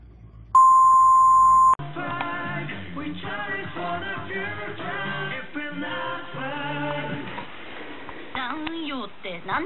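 An hourly radio time signal sounds as a single long steady pure tone, loud and alone, then cuts off as a talk-and-music commercial begins underneath with voices.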